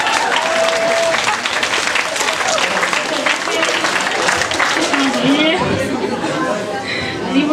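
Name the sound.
audience applause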